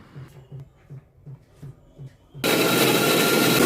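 A blender starts up loudly and runs steadily, grinding tomato, garlic and ginger with a little water into a smooth paste, after a few soft rhythmic knocks.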